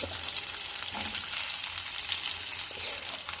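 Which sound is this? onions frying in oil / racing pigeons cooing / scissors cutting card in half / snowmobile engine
onions frying in oil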